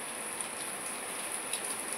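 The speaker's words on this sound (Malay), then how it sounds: "Tapi macam bising ke hujan." Rain falls steadily, a constant soft hiss with faint scattered patters and a thin high whine in the background, with no voices.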